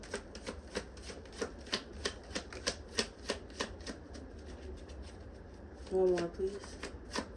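Tarot cards being shuffled and drawn, a close run of quick papery riffling flicks and slaps, with someone speaking briefly over them.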